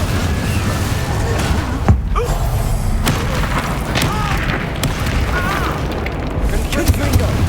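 In Hogwarts Legacy, Confringo spells burst into loud, booming explosions over a dense wash of game noise and combat effects, with voices shouting throughout.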